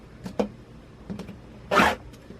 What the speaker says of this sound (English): I just want to trim off my selvage so we can start marking.